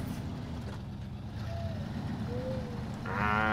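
A six-wheeled all-wheel-drive truck in the SnowRunner video game gives a low, steady engine rumble with a couple of faint tonal whines, and the engine swells louder near the end.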